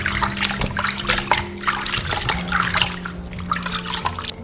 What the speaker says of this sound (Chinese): 这些姜片、葱节挑掉不要，清洗干净